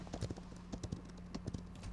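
Horse hooves clip-clop in the fantasy video game Paladins, a steady trotting rhythm of close, moderately loud hoofbeats over a low background hum.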